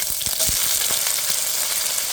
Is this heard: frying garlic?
yes